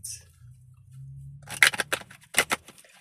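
Moonology oracle card deck being shuffled, a few quick bursts of crisp card riffling and flicking up close, preceded by a low murmur.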